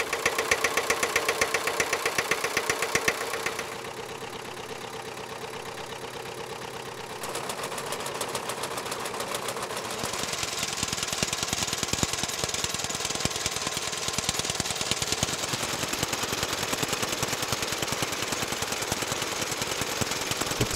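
An old Hanomag R 16 tractor engine runs with a loud, rapid, rhythmic knocking chug, steady throughout, with its tone shifting and revving harder partway through.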